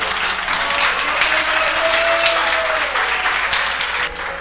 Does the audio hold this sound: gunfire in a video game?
no